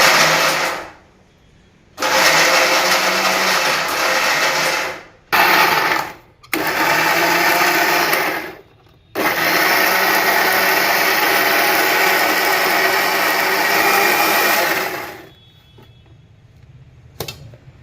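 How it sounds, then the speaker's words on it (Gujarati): A kitchen mixer grinder jar blends thick green chutney for gathiya, running loud in several bursts with brief stops between them before falling quiet near the end. "એક મિક્સરના જારમાં તમે જ્યારે પીસો ત્યારે થોડું થોડું પાણી નાખતું જવાનું"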